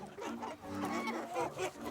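Hens cluck and chatter on a goat farm in Rouillac: a busy, continuous flock that is fairly close and loud, with overlapping calls.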